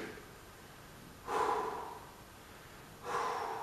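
Two forceful exhalations during a lower-body leg workout, each a breathy rush lasting about half a second, close and alone, spaced under two seconds apart.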